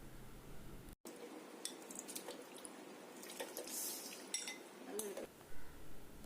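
Frozen grapes tumble into a mixer grinder jar in a home kitchen, giving a quick run of light clinks and soft taps against the jar, close and fairly quiet with no talk over them.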